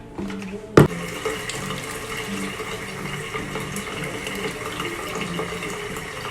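Water runs steadily from a bathroom sink tap during face washing with a foaming cleanser, a continuous close splashing flow that opens with a sharp knock and carries on unbroken.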